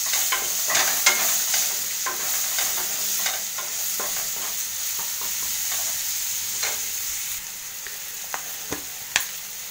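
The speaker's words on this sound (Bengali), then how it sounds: "এটাকে ভালো করে মিক্সড করে দিই, নুন দিতে হবে, টমেটো দিয়ে দিলাম, কাঁচা লঙ্কা দিয়ে দিলাম" Tomatoes and green chilies stirred and frying in a pan, with a steady broadband sizzle throughout and scattered sharp scrapes and clicks of a spoon against the pan, close and fairly loud, no voices.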